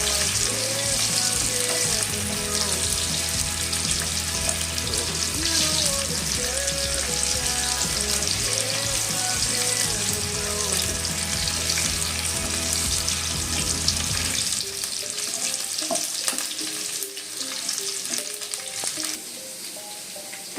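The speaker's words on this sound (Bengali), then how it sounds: "তো এগুলো একদম লাল লাল করে ভেজে নেব" Vegetable stalks fry in a pan with a loud, continuous sizzle, broken by stirring and faint clinks, before settling into a quieter hiss near the end.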